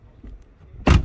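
A pillarless door on a 2021 BMW 2 Series Gran Coupe 218i M Sport swings shut with a single solid thump near the end, after a second of quiet handling noise close by.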